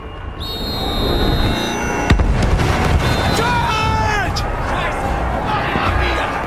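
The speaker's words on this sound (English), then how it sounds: "We just went from firing a machine gun to being in a freaking tank and now we're shooting people out here" Loud, dense battlefield din from the game Battlefield 1: gunfire and explosions crowd together, one sharp blast cuts through, and tonal music and shouting voices sit over the chaos.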